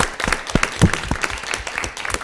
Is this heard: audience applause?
yes